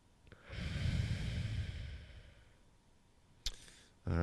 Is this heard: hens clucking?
no